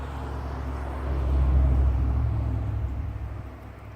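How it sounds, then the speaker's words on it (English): Car passing on a road up a riverbank near a quarry, a low rumbling hum that swells to a peak midway and fades away, moderately distant. "There is a road right up on that bank right there, so you guys may see cars go by."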